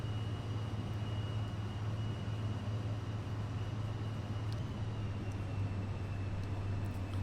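Cirrus Vision Jet taxiing in a flight simulator game: a constant low engine hum and whine, steady and unchanging throughout, with a few faint clicks.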